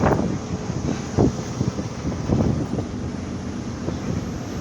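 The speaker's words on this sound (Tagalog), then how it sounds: "Sarap na naman ang simoy ng hangin." Steady outdoor breeze buffeting the microphone near the shore in Tacloban, Leyte, a continuous low rushing with occasional stronger gusts and no voices.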